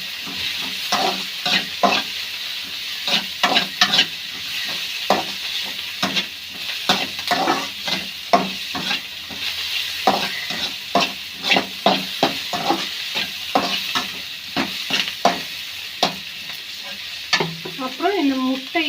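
Tomatoes are sautéed in a frying pan for pasta, with a continuous soft sizzle under rapid, rhythmic spatula scrapes and taps repeating steadily, close and clear.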